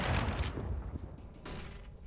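Gunfire in a Counter-Strike match on Dust2, including a Tech-9 pistol, heard as a quick cluster of sharp shots up close followed by a second burst.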